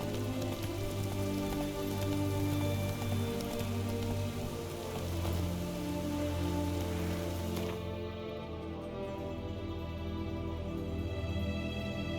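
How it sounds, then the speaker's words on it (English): Conjured rain falling in The Witcher 3 game, a steady dense patter of rain on surfaces with a low tonal game soundtrack beneath, the high rain hiss thinning out near the end. "Witches have conjured rain."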